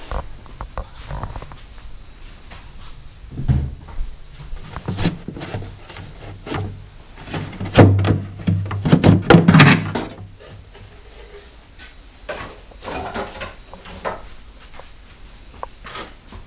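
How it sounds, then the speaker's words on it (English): A magnetic door being pulled off the canopy of a composite Skygate L-39 model jet: scattered close clicks, taps and rubbing handling noises, with a few louder knocks and scrapes in the middle, no talk. "Pull the other door off."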